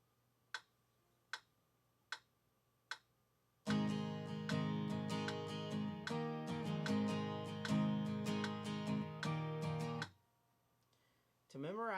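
Acoustic guitar strummed in a steady four-beat pattern at 76 BPM for the intro and verse of a song, preceded by four sharp count-in clicks and ending after about six seconds of full, ringing chords.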